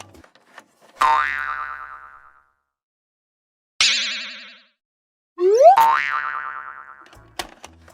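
Three separate cartoon boing sounds, each a springy wobbling twang that bends in pitch and rings out, with short silences between them and a faint click at the end.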